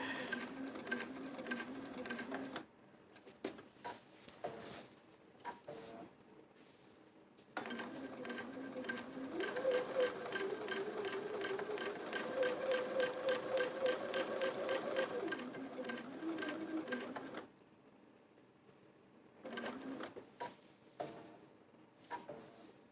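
A sewing machine stitching quilt blocks runs in bursts of rapid, steady needle clatter, picking up speed in the long middle run, with quiet gaps between bursts and faint room sounds.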